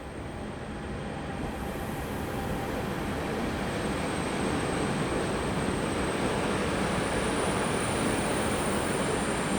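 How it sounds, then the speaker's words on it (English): A train rumbles loudly and steadily through a railway station in Oslo, a continuous roar of wheels and carriages lasting nearly ten seconds with no voices. "There's a train."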